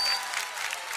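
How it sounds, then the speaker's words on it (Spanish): A stage audience applauds a performer's son, a steady dense wash of clapping holding at one level through the whole brief moment with no voices. "fuerte el aplauso para el Pucci"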